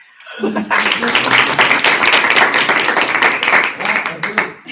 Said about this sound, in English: More clapping for that one than any other